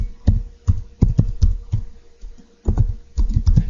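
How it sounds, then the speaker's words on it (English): Typing on a computer keyboard while filling in a basic spreadsheet: close, loud bursts of key taps in quick uneven clusters separated by short pauses. "So I'm going to type in student name"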